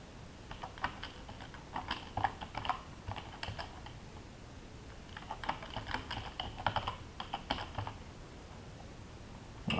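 Fingers tap a computer keyboard in two bursts of quick, uneven keystrokes separated by a short pause, fairly close and quiet, with no talking.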